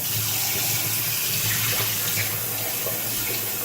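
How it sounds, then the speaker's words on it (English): Kitchen faucet water running steadily over salmon being rinsed in a sink, a continuous close hiss and splash with no pauses and no voices. "I'm gonna just run some more water over it."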